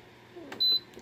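One short electronic beep from a Lasko heater's control panel while setting a timer, clear and close in a quiet room.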